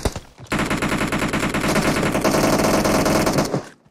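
Rapid automatic gunfire in a Free Fire or PUBG-style battle game: a loud, continuous burst of dense shots lasting a few seconds, then cutting off abruptly, with no speech.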